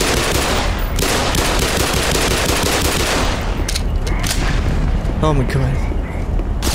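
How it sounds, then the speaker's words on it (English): Heavy combat in the shooter Black Mesa: continuous loud, close machine-gun fire mixed with grenade and rocket-launcher blasts and booms, with a person briefly exclaiming over the din. "They're throwing grenades at me and fucking rocket launchers."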